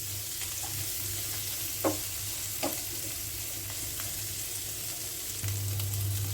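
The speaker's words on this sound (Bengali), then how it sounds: "এখানে কেটে রাখা রসুন আর পেঁয়াজ আমি কেটে নিয়েছি, এটা দিয়ে দিলাম ভাজার জন্য।" Small shrimp with garlic and onion frying in oil make a soft, continuous sizzle, broken by a couple of brief scraping stirs, with no talk over it.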